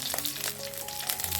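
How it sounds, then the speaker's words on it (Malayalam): Curry leaves and dried red chillies fry in hot oil for an urid dal sirka, giving a brief, even crackling sizzle close up. "കറിവേപ്പിലയും കായ്മുളകും ഒക്കെ ഒന്ന് മൂത്ത് വരട്ടെ."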